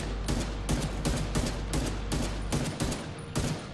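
Rapid automatic gunfire in The Division 2, a loud, dense, sustained burst of shots from a player lying prone and shooting, with no talk.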